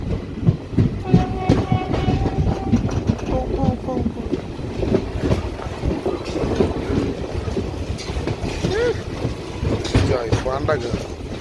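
A special passenger train runs through forest country on the Itwari to Katni route, and its wheels keep up a loud, close, continuous rhythmic clatter over the rail joints while people talk over the noise.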